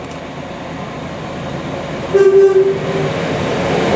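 A loud train rumbles steadily nearby as it departs Stowmarket station, and partway through a single sustained horn blast sounds over the noise.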